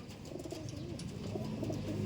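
A pigeon coos softly and close by, a low throaty rolling call over a faint background hum.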